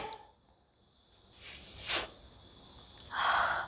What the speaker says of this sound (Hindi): पहले पहले छींक तो आ गई।